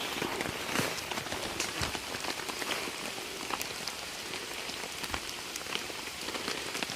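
Heavy rain pounding on a tent during wild camping, a dense, steady patter of drops with sharper individual hits, close and loud throughout with no voices.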